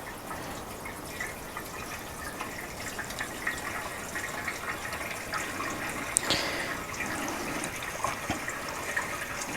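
Liquid pours and trickles into the fuel tank of a wrecked Harley Davidson Sportster motorcycle, a steady low gurgling wash with occasional drips and one sharper splash, close and moderately quiet.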